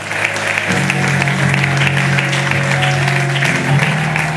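A church congregation applauds during a French-language sermon, with steady, loud sustained clapping and crowd noise under a held tone, continuing without a break.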